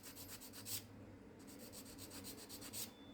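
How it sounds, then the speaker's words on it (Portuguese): Sandpaper rubs over a small diorama vase in quick, even back-and-forth strokes, soft and close, with a brief pause midway before the rhythmic scratching resumes. "você lixa todo ele"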